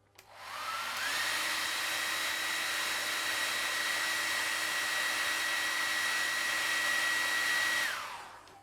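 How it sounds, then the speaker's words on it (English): A hair dryer, used in fishing rod building, switches on and blows steadily with a high whine for about seven seconds, then winds down and stops. "Use a hairdryer."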